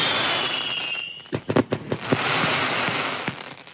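Firecrackers and fireworks burst outdoors in Hainan, China: a rapid cluster of sharp, loud cracks and bangs over a rushing hiss, with more scattered pops trailing off after.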